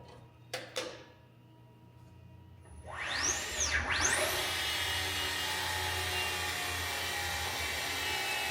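An electric motor from a Tesla, swapped into a 1973 Ford F100, whines up from a few clicks into a rising then falling sweep before settling into a steady high-pitched spin, fairly loud and close.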